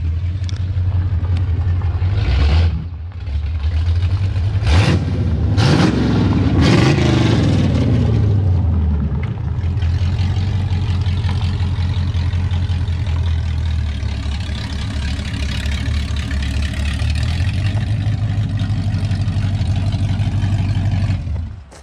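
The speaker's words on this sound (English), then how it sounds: "Sounds like a motorcycle." A loud engine idles with a deep throbbing rumble, revs up sharply a few times, then settles back into a steady idle.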